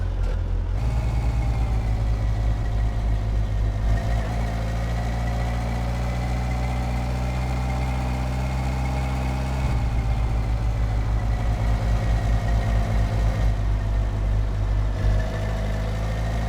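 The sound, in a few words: motorbike engine idling in video game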